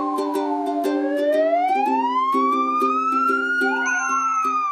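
An ambulance siren wails continuously, its pitch sweeping slowly upward, loud and close, with a steady tonal backing beneath it and no voices.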